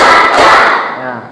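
Five quick hand claps from a classroom group, loud and near, merged into a dense burst that fades with a short room ring afterward.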